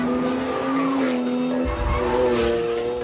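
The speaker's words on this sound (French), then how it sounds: "Le moteur V12 d'une Ferrari fait un son incroyable." A Ferrari V12 race car engine on a racing circuit, a loud sustained high-pitched engine note with shifting pitch, rising and falling through gear changes, with a deeper roar joining partway through.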